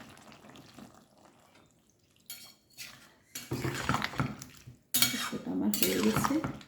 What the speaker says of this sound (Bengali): মিক্সার জারটা ধুয়ে